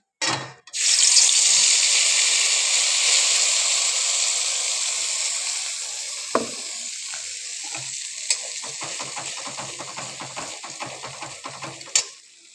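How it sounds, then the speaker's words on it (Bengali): Poppy seed paste poured into hot oil in a wok-style pan for a cauliflower poppy seed roast, setting off a loud, steady sizzle that slowly eases, with a few clinks and stirring scrapes near the end. "কড়াতে একটু তেল দিয়ে দিয়েছি, এবার পোস্ত বাটাটা ঢেলে দেবো।"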